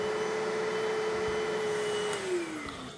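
Steady, loud motor whine and suction roar of a Bissell carpet cleaner pulling flour out of carpet, holding a constant tone before the pitch drops as the motor begins winding down.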